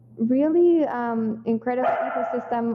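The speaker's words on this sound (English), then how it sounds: "I'm sorry about my dog." A dog yelps and whines in short bursts mixed in with a person's nearby speech, the animal's cries overlapping the talking throughout.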